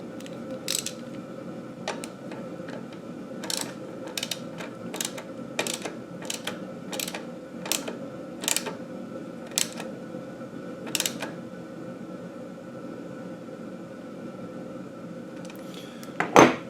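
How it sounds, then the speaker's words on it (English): A brake cable is tightened and locked on a Mongoose Juneau 26-inch fat tire bike, with sharp ratcheting clicks and small metallic ticks at irregular intervals over a quiet steady hum and a louder rattle at the end. "then I'm going to tighten this cable, and then I'm going to lock it in place"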